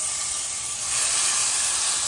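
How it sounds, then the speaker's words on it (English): Vegetable pancake filling hitting a hot pan, giving a loud, steady, close hiss and sizzle with no talk. "Now that my pan is nice and hot, I'm gonna fill a 1 cup measuring cup with the filling and then we're gonna get it onto the pan"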